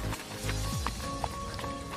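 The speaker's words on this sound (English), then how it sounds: "I have him trot out, so we're watching the back end of that horse to see if they're even" Police mounted patrol horse trotting out in a controlled line, quick rhythmic hoofbeats over steady background noise and faint voices, fairly quiet and somewhat distant.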